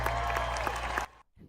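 A single person claps steadily and rapidly, a close, loud run of hand claps that stops abruptly partway through, leaving a quiet room.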